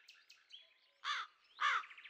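A crow in a children's animated cartoon about a school bus gives two loud, harsh caws about half a second apart, following fainter chirpy sounds at the start.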